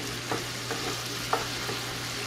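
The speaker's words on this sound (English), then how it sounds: "Okay, so let me mix my shrimp just a little bit more." Deviled shrimp fry in a pan as they are stirred, a steady close sizzle with a few soft scraping knocks of the utensil against the pan.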